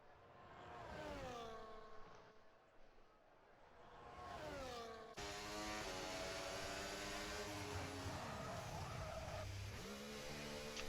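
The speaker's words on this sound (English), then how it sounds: "Nice little lock up from Ale there into the pits" Race car in iRacing, a video game, locking its tyres on entry to the pits at the Spanish Grand Prix: a loud engine note dropping sharply under braking, a brief tyre squeal, then the steady drone of the car on the pit limiter.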